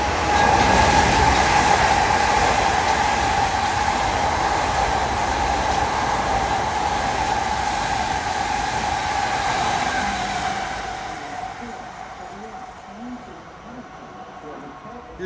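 A Long Island Rail Road train of M9 cars rolls past near Garden City, a loud close rumble and rail noise that gradually fades as it moves away, with a voice faintly under it.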